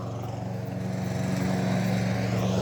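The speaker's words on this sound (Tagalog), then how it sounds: "lawn mower." Lawn mower engine running steadily at a backyard house, a continuous droning hum with a slight rise in loudness, fairly close and alone without talk.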